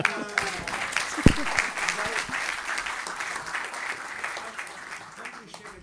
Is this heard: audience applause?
yes